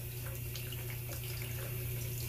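A tap runs water in a steady, continuous rush, close and moderately loud throughout, with a low hum underneath and no voices.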